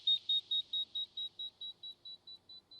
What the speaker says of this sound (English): It's a very high pitched tone.